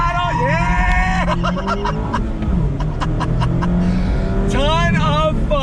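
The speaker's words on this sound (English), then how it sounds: "Let's do some more on throttle." A 2020 Mazda MX-5 RF accelerating on throttle, its engine note rising in pitch through the revs, with a driver talking and cheering over the loud, close cabin sound.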